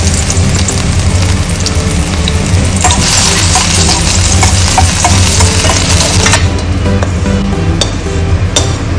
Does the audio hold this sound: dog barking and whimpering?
no